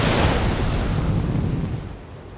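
Rough sea waves and gusting wind near Cork Harbour make a loud, close, churning roar that eases slightly toward the end.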